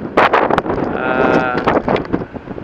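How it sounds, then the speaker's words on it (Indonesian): Strong wind blowing across the microphone at a wind power generation site, a loud, close, rushing buffet that swells and dips without pause. "memanfaatkan tenaga angin yang memang berhembus cukup kencang di tempat ini"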